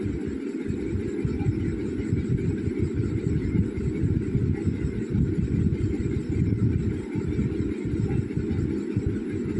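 An electric mixer beats chocolate cake batter with powdered sugar, a steady, close, low churning whir running without pause and with no voices.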